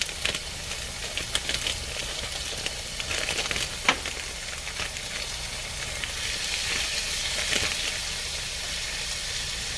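Ground beef sizzling in a pan for a taco lasagna, a steady close crackle and hiss with occasional louder spits and scraping stirs, continuous throughout without talk.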